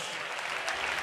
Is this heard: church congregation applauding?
yes